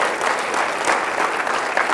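Audience applauding people who have served in the military, steady dense clapping sustained evenly for two seconds at a close, full level with no speech.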